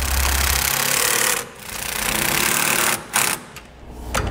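A power tool or impact driver whirs loudly while tightening 12 mm nuts on a B and W fifth wheel hitch frame rail on a 2007 Toyota Tundra, running in sustained bursts with brief pauses.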